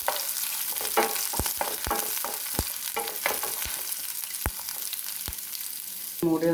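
Prawns and raw mango are stir-fried in a pan under a constant close sizzle. A spatula scrapes and taps the pan in a quick irregular rhythm, and a louder stir comes at the very end.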